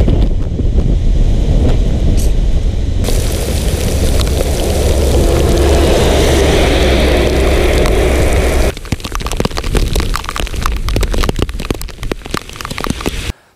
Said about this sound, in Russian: Самый настоящий, сильнейший ветер, дождь.